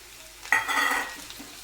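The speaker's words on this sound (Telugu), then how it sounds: "ఉల్లిపాయలు ఫ్రై అయిపోయాయి కదా, ఇప్పుడు టమాటాలు వేసుకుందాము." Tomatoes tipped into a pan of frying onions for a raw banana and tomato curry: a sudden close clatter is followed by a brief burst of sizzling that rises and then fades.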